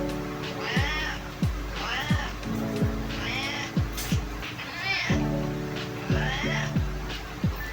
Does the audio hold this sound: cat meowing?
yes